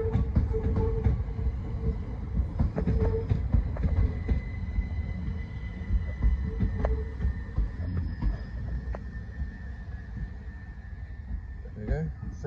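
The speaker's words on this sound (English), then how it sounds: "Three seven five 820 from London Charing Cross via Tunbridge Wells" Class 375 electric multiple unit 375-820 running at Hastings station, a steady rolling rumble with wheel clicks and faint higher tones throughout, close and continuous, with a voice talking over it.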